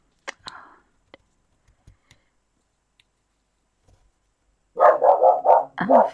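A dog barking indoors, a burst of four or five rapid loud barks near the end, preceded by scattered faint clicks and quiet.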